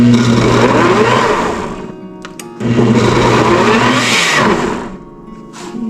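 A kitchen blender pulses chopped apples for applesauce in two loud, close bursts of whirring motor, each running about two seconds with a brief gap between them.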